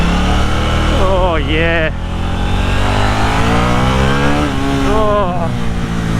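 A 2023 KTM Duke 890 motorcycle engine revs hard and loud close by, its pitch climbing through repeated rising sweeps with a brief drop between pulls, while a rider exclaims over it.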